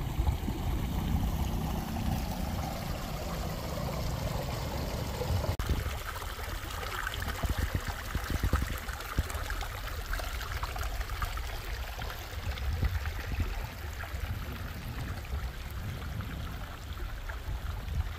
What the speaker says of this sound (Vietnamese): tiếng nước chảy róc rách róc rách